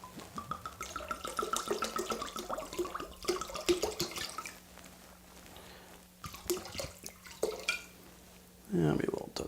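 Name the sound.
pouring rum from a bottle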